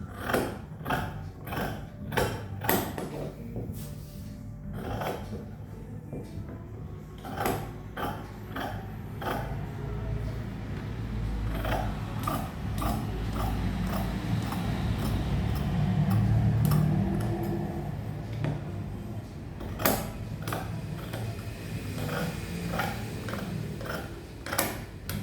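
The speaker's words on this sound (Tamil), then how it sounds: "அதுக்கு பிறகு இப்போ நாங்கள் வெட்ட போகிறோமே" Scissors cutting saree blouse fabric, a steady run of crisp snips and clicks with close, dry blade sounds over low background hum, no talk.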